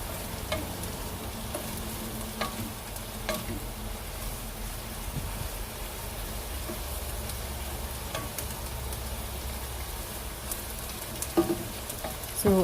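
Pancit bihon and canton with chicken sizzle in a pan while being stirred, a continuous close frying hiss broken by scraping and clinking of the utensil at irregular moments.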